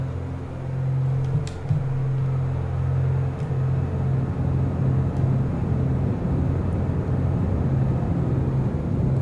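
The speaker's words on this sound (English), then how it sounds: "Okay, gears coming down, verifying." Landing gear extending on a B58 aircraft in X-Plane 11, heard as a steady low mechanical hum and drone under the engine rumble inside the cockpit, with a couple of faint clicks, no talking.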